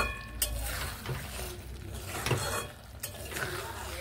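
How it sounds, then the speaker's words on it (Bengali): Beans and chhana with slit green chillies stirred in a pan, faint scraping strokes and light clinks over a low background sizzle, fairly quiet and close. "এইভাবে নেড়ে নিচ্ছি।"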